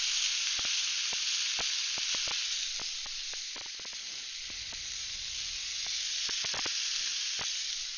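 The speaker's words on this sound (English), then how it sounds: "So you can hear that sizzle." Tightly packed bison burgers sizzle on a hot griddle: a loud, continuous close-up hiss broken by frequent sharp pops and spits of fat, with no talking.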